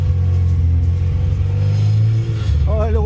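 Talbot Samba petrol engine struggling to hold a steady idle, a loud close rumble with uneven revving throughout, joined near the end by a wavering higher whine.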